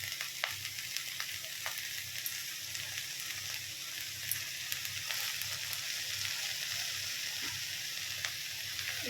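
Chopped gongura leaves added to a hot tempering of oil with onions and green chilies sizzle steadily in the pan, a close, continuous crackling hiss dotted with small pops, with no voices over it.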